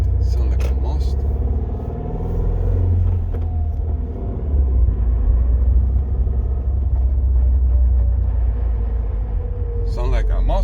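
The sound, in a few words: Subaru WRX engine and drivetrain noise after shifter upgrade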